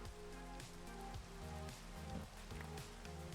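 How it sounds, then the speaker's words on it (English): Steady rain patters down across a Minecraft world, a dense, even hiss with no voices over it. "It is indeed, and it's raining."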